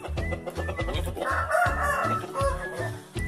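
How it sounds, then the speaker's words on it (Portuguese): Large farm chickens cluck steadily in a rhythmic pattern while a rooster crows loudly nearby partway through, with someone speaking faintly in the background. "O frango também, a galinha."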